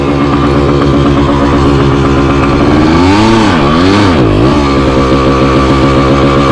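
A 1978 Yamaha DT175 motorcycle engine runs loud and close, its two-stroke idle rising into a couple of quick revs that swoop up and back down before settling again.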